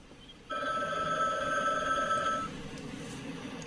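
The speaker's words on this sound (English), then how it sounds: "That's the phone ringing." A telephone bell rings in one sustained burst of about two seconds, loud and close, with faint room noise before and after and no talking.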